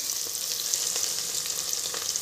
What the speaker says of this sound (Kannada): ಈಗ ಒಂದೆರಡು ಸುಮ್ಮನೆ ಎರಡು ಮೆಣಸಿನ್ಕಾಯಿ ಹಾಕಿ ಟೇಸ್ಟಿಗೆ. ಅದು ಒಂದು ಸ್ವಲ್ಪ ಫ್ರೈ ಮಾಡ್ಕೊಳ್ಳಿ.